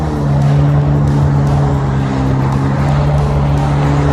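A personal watercraft's engine drones steadily after the rider eases off the throttle to slow down on the water, a continuous low hum with steady tonal lines, loud and close, with no talk.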